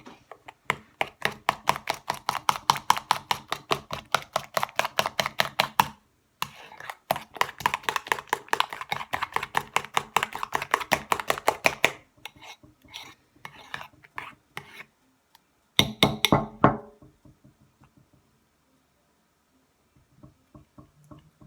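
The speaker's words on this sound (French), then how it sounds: "Et on mélange le tout. On mixe vraiment bien." Black soap mixture stirred briskly in a bowl, rapid rhythmic scraping strokes in long bursts separated by short pauses, close and fairly quiet, ending in silence.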